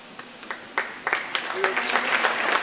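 Scattered handclaps from a few audience members at a 2019 commencement ceremony, thin and irregular, building slightly over a couple of seconds.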